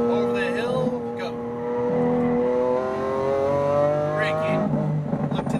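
A sports car accelerates at full power around the EXR Las Vegas track, its engine note climbing steadily in pitch, loud and close, with a brief dip before it surges again while someone talks over it.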